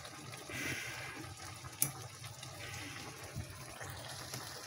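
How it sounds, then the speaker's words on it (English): Ground beef taco mix with onion comes up to a boil in a pan, bubbling and simmering steadily at close range with a single sharp pop partway through. "And now we're up to a boil."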